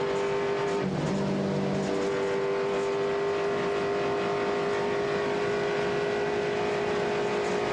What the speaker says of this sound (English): Man, those cars look and sound spectacular